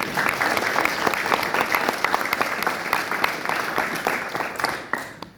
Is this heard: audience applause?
yes